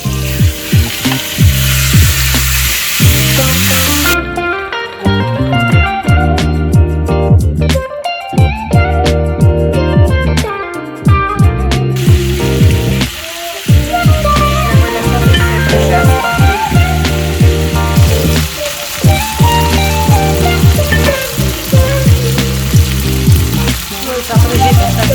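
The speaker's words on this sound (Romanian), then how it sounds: "Să pun un pic de ulei la încins. Adaug bucățile de pui." Chicken pieces sizzling in hot oil in a pan, a steady loud frying hiss running throughout with music-like tonal layers over it and no talk.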